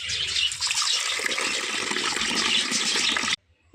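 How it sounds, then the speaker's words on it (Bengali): Water runs steadily from a tap, gushing and splashing close by while brass puja utensils for the household deity are rinsed in a home shrine. The flow stays loud and continuous, then stops abruptly near the end. "ঠাকুরের বাসন সব ধুয়ে ফেলি।"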